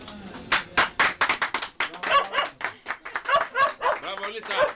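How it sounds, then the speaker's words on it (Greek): Rapid, loud hand clapping in a close series of sharp bursts, with a casual gathering around a patsas meal by a small harbor, voices mixed in the background. "Τα παλαμάκια είναι."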